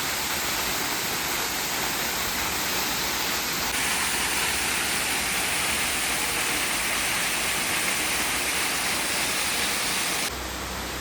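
Harvelem waterfall roaring steadily up close, a dense, loud, unbroken rush of falling water with no pauses.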